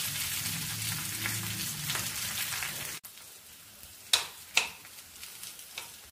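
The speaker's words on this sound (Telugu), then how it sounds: "దోరగా వేయించుకోవాలన్నమాట." Food frying in a pan for a coriander-tomato chutney, a moderate sizzle that drops quieter midway, with a few sharp spatters and stirring clatters.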